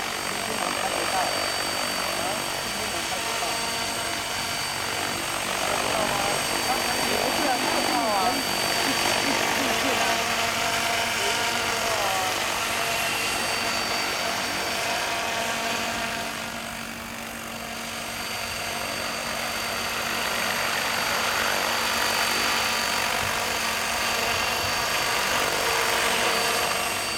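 A JR SY E12 model helicopter hovers in a test flight, its steady rotor and engine whine droning continuously near and loud, dipping briefly mid-way before resuming.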